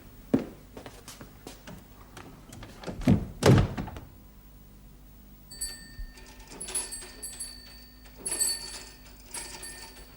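An office door in a Norwegian home is pulled shut with a couple of solid thunks, followed by quieter room sounds, light movement and faint ringing tones.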